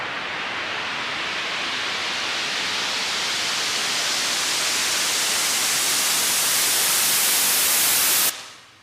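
A loud broadband noise sweep rises and brightens steadily, then cuts off abruptly into a brief fading reverb tail.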